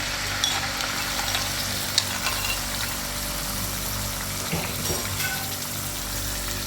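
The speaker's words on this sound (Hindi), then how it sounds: "थोड़ा सा हम मज़ीद इसको कुक करके और इसमें अपना बोनलेस चिकन ऐड कर देंगे" Boneless chicken frying in a karahi, a steady, close hiss and sizzle of hot oil with faint stirring clinks and scrapes, continuous with no voices.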